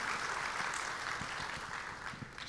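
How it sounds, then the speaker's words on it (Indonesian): A church congregation applauds the worship leader, singers and musicians with steady, moderately loud clapping that continues throughout. "Boleh tepuk tangannya di extend buat worship leader"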